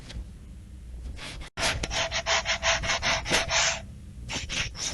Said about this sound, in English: I'm going to take the sanding block